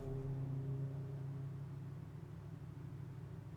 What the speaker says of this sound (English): Sounds like a vehicle